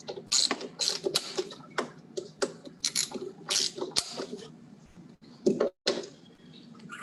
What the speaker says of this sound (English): you have to change the head for the torque wrench. Set at 20 inch-pounds. We're going to torque this one here.